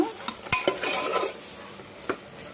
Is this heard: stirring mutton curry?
yes